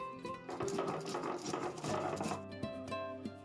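Mustard seeds are ground into a fine paste with a quiet motorized whir and gritty rattling that rises and eases in uneven spurts, with no voices.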